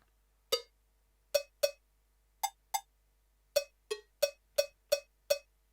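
Punchy, even pad strikes from a Roland R-70 drum machine with compression applied, in quick clusters, each a bright metallic hit with a tight, controlled decay, repeated about a dozen times.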